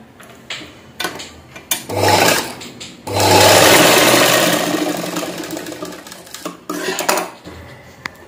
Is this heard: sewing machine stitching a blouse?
yes